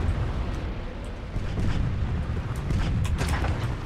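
Tank cannon in the online game Tanki X, firing at close range like a shotgun, heard as dense, rumbling bursts over a steady roar of battle noise, loud and continuous, with no speech.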